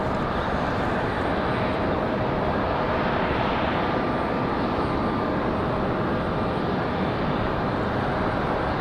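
A Republic Airways jet departing on takeoff at Raleigh-Durham International, a steady broadband engine roar holding loud and continuous throughout with no voices.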